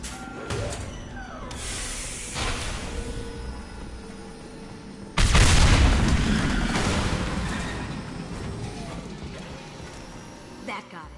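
Tanks exploding in a video game: a sudden heavy blast midway erupts into a loud roar that slowly decays, following earlier smaller bursts and hissing effects, with game voices speaking around it.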